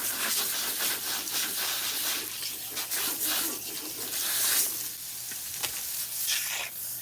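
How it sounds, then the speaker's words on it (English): A tap runs steadily for rinsing hair while relaxing salt and pepper hair, a close hissing splash that shifts and spatters as the stream hits hair and the basin. "Okay, so now we're going to use cool water."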